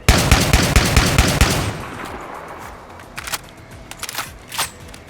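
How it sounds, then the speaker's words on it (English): Rapid burst of fully automatic shotgun fire from a USAS in the Wii first-person shooter Red Steel, loud close blasts for about a second and a half, then scattered quieter shots and echoes trailing off. "It is a fully automatic shotgun that should function something like this"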